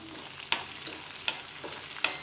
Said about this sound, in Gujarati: ચણાની દાળ અને અડદની દાળ થોડી આપણે એમને શેક શેકી લઈએ